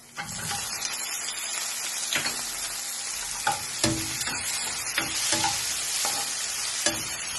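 Tomato and green chili frying with softened onions in a pan, a constant close sizzle broken by repeated scraping stirs of a spoon against the pan.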